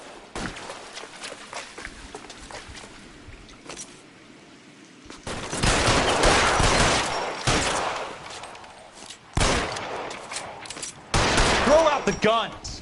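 Rapid bursts of gunfire from a shootout in the video game L.A. Noire, with loud volleys and sustained clusters of shots separated by quieter stretches.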